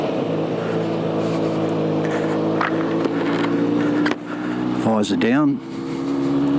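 A Harley-Davidson X 350 motorcycle idles and eases down a driveway, its low steady engine drone briefly dipping and rising as it shifts, while a rider speaks over it.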